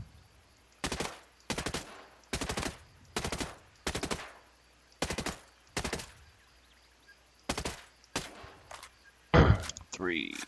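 Assault rifle gunfire in the video game Ghost Recon Breakpoint: about ten short, sharp bursts of automatic fire separated by near silence, with a voice briefly speaking at the very end.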